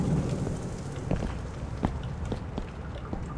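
Steady rain of a thunderstorm in the horror video game The Joy of Creation: Reborn, a dense continuous wash with a few sharp crackles, fairly loud and alone.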